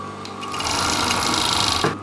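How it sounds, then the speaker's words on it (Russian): A sewing machine runs a seam through very thin fabric for a turban snood, a loud, close, continuous whirring run that starts after a few brief clicks and stops with a short knock near the end. "И сейчас мы с вами проложим строчку,"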